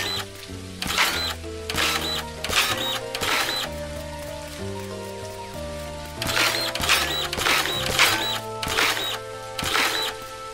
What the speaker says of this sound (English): Let's get the dirt printer out and let's do what we need to do.